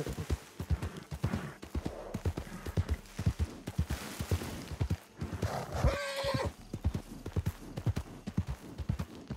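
In the Red Dead Redemption 2 video game, a horse whinnies in a bright, quavering call near the middle while hooves clip-clop in a steady rhythm throughout, close and clear.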